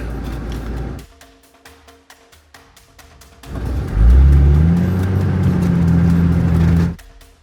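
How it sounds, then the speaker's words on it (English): Toyota Land Cruiser engine revving hard in gear on a steep off-road ascent, a deep labouring drone that swells loudly and holds steady for several seconds before cutting off, after quieter clattering idle. "I drop the cruiser back into gear to prepare to tackle the last bit of this ascent"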